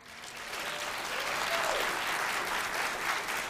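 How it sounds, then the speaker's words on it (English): A crowd claps at a county board of commissioners inauguration, honoring a new commissioner; the applause swells and stays steady, a bit distant and roomy. "Let's give her a hand clap for that."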